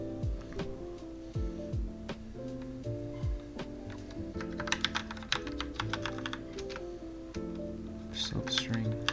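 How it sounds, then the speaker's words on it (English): Computer keyboard typing while writing JavaScript code in VS Code, a steady patter of close key clicks under a low musical background tone. "I want to type it into VS Code."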